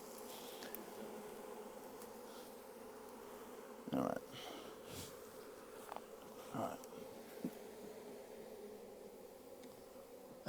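Faint, steady buzzing of a honeybee swarm, with a person speaking briefly and a few soft knocks and rustles nearby as the bees are brushed.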